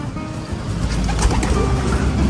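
Pigeons coo in a breeding loft, loud and close, with a dense steady layer of overlapping low throaty calls and no talk.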